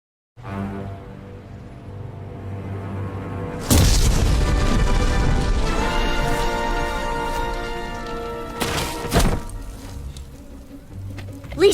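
A factory blows up in The Simpsons Game, a loud deep boom erupting over a low rumble, followed by sustained crackling debris and a second burst near the end.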